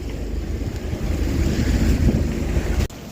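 Heavy sea swell breaks over a sailing boat's bow off Lizard Point, a loud, close, continuous roar of wind and rushing water that surges and then drops abruptly near the end.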